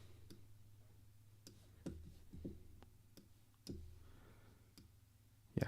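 A computer mouse clicks about a dozen times in sharp, dry taps with irregular spacing, some in quick pairs, over a low steady hum in a quiet room.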